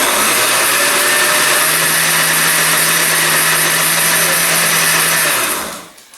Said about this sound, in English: I'm going to turn the blender back on and then just drizzle the oil in here until it's all mixed together, still on low